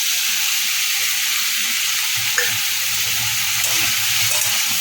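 Fried prawns are stirred through vegetables and tomato masala in a pan with a spatula, giving a constant frying hiss with soft scraping movements and no talk.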